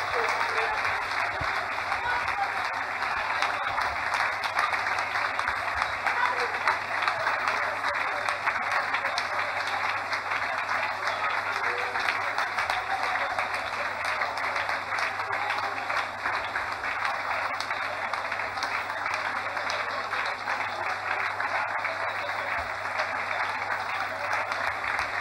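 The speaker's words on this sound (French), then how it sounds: "Clap your hands." A church congregation claps steadily and continuously at moderate loudness, an even wash of hand claps with no pauses, heard at some distance with crowd murmur underneath.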